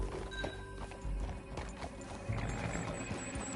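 Horse hooves on the move in Red Dead Redemption 2, a steady clip-clop under a low game soundscape with a faint whinny, fairly quiet and without talk.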